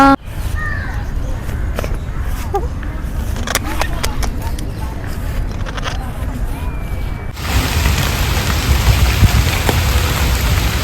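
Rain falls steadily around Cubbon Park in Bangalore, making a constant wash of patter and drips that grows heavier partway through, with a passing car and occasional footsteps nearby and a person talking over it.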